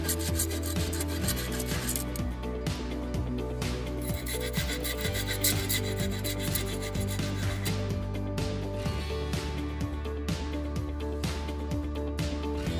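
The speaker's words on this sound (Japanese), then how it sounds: "竹が長すぎたので直接先端をノコギリで切っていきます。" A handsaw cuts the top off a bamboo garden stake for tomato and eggplant supports, with steady rhythmic rasping back-and-forth strokes close up and no talk.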